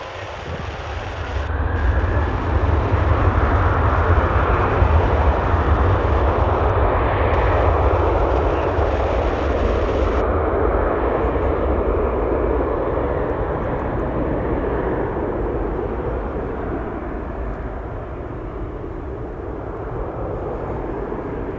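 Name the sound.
Ryanair airplane taking off at Bristol Airport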